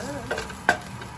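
Onions sautéing for crab curry with curry leaves, a quiet sizzle in the pan broken by a couple of brief stirring scrapes.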